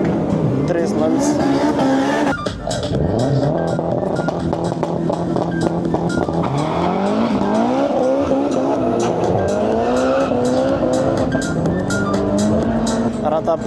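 A drag race car, Audi or BMW at a drag championship, spins its wheels with loud sustained tire squeal and a rising, falling engine roar that shifts through gears, with talk over it throughout.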